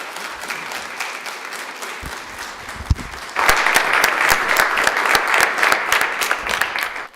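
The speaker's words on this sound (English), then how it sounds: "give him a round of applause." Audience applause at a Nevada Boys State assembly, scattered clapping that swells into dense, loud sustained applause from a large crowd.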